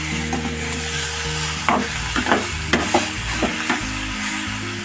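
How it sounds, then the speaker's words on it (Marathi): Mutton pieces stirred and fried in hot oil in a pan, a steady loud sizzle with several scraping stirs of a spoon partway through, no talking. "व्यवस्थित मिक्स करून घेऊया पाच मिनटं पूर्णपणे मिक्स करून तेलामध्ये फ्राय करायचं"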